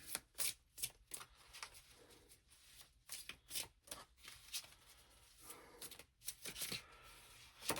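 Tarot cards being shuffled for a reading: a close, quiet run of repeated papery riffles and slaps in irregular bursts, with no voice over them.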